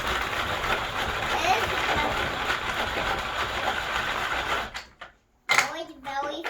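A hand-crank food chopper whirs steadily as zucchini is spun and chopped inside it, a continuous loud rattling churn that stops abruptly near the end, followed by a brief voice.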